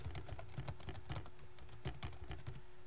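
A note is typed on a computer keyboard during a document-search software demo, a quiet run of irregular clicking keystrokes in quick bursts, close by and without talk.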